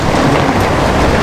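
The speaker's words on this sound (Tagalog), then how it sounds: "Kaya sobrang malakas na ang ulan, malakas pa ang hangin." Heavy rain from Typhoon Uwan pours down under strong gusting wind during a Signal No. 4 storm in a dark mountain area, a dense, continuous loud wash with no break.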